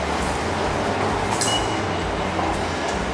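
Train in Tokyo rumbling steadily, loud and close, with a continuous roar of wheels on rails and a faint metallic squeal partway through, with no talking.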